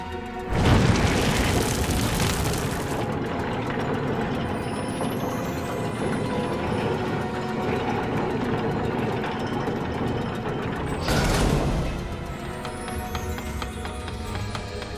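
Heavy grinding and clanking of elevator gears lurching into motion in a game scene, a loud boom at the start and another swell near the end over a continuous mechanical rumble.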